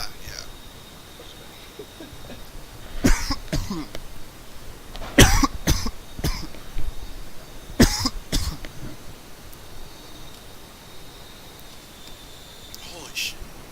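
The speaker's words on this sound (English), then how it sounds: "got that cough still" A person with a lingering cough coughs close to the microphone in several short, harsh bursts, some in quick pairs, over a quiet background during a co-op Super Hornet flight sim session.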